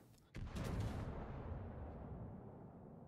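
One heavy naval gun blast booms out from about 12 kilometres away, followed by a long rolling rumble that slowly fades; a World of Warships cannon shot heard at a distance.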